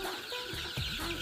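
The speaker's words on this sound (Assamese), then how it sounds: "চাওক মুৰ্গীটো" Sonali chickens in a brooder give short clucks and soft calls, a few close bird notes over a low background hum, with no talking.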